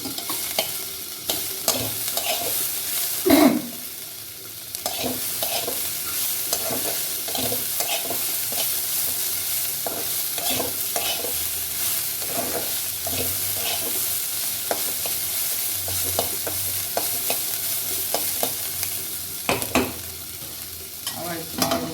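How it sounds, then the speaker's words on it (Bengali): Dheki shag fern greens and fried potatoes being stirred in a pan, with steady sizzling frying under repeated scraping and clacking stir strokes throughout, fairly close and with no talk. "একটু পাটে পাটে ঢেকে দিয়ে নেড়ে দিতে হবে।"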